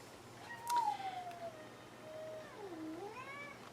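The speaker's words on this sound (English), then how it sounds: "Well, my cat is causing problems." A house cat meows in a long, bending cry, followed by a second drawn-out meow rising and falling at the end, fairly close and clear over a quiet room with no talking.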